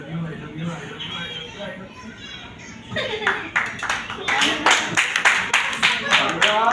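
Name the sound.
applause, clapping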